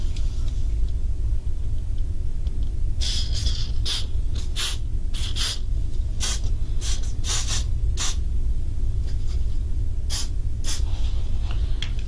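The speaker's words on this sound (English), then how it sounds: "Let me spray a little bit first." Short bursts of hairspray hiss in quick succession, close by, repeated several times over a steady low background rumble.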